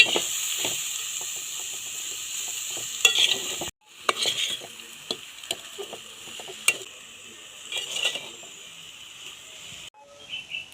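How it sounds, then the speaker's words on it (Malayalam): A banana flower and mackerel thoran is stirred in a pan, with repeated scraping spoon strokes over a soft, steady sizzle that pauses briefly partway through. No one talks. "നല്ലപോലെ മിക്സ് ചെയ്യാം."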